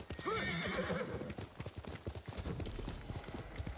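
A horse in the video game Ghost of Tsushima gives a clear neigh near the start, then its hooves clip-clop in a quick, uneven rhythm, close and loud, with no speech.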